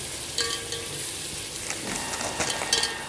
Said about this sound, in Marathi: तोपर्यंत आपला हा मसालाही छान भाजून झालेला आहे